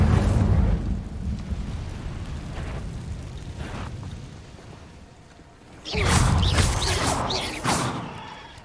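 The Incendio fire spell cast in the Hogwarts Legacy video game, heard as a rumbling burst of flame that dies down, then a louder second fiery eruption with crackling whooshes near the end.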